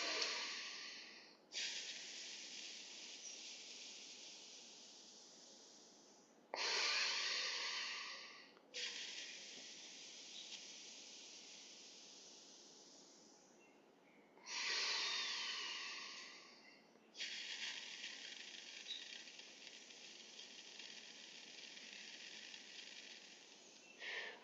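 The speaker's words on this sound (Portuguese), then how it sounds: "Inspirando pelo nariz e soltando com pressão pela fenda dos lábios." During a Hatha yoga breathing class, a person inhales through the nose and then pushes each breath out forcefully through pursed lips. Several long, hissing exhalations follow one another, each fading gradually, close and fairly soft.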